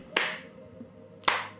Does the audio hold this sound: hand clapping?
yes